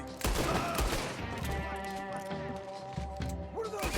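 Rapid volleys of gunfire in the video game Red Dead Redemption 2, with loud overlapping shots over a game music bed and brief talking.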